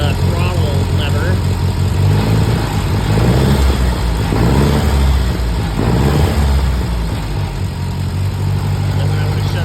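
A 1952 Ferguson TO30 tractor engine runs loud and close with a steady, low, chugging idle throughout, while someone talks over it.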